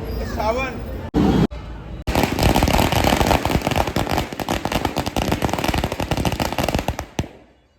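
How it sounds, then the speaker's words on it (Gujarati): Firecrackers set off at the opening of a new travel company vehicle, a long dense volley of sharp rapid bangs and crackles after a short burst of whistling, with crowd noise underneath. "ફટાકડા ફૂટી ગયા છે ઓલરેડી"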